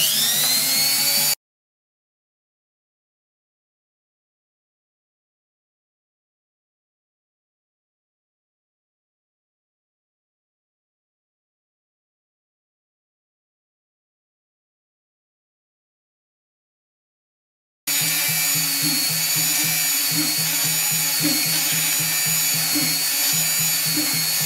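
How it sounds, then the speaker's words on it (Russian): Power drill boring holes in a printed circuit board for a homemade modular synthesizer, a steady high whine heard in a short burst at the start and again in a longer stretch after a long silence. "Сверлим дальше."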